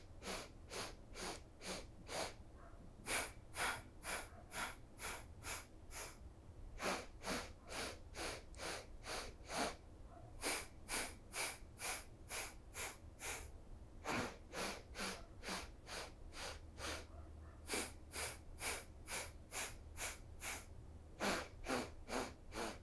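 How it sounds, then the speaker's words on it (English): Rapid short nasal inhales and exhales during a morning yoga breathing exercise, sharp evenly spaced bursts in quick runs separated by brief pauses, close and clear with no talking. "7 successive short inhales followed by 7 successive short exhales"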